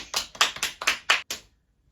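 A short burst of about seven sharp hand claps, close and fairly quick in an uneven rhythm, ending abruptly into silence.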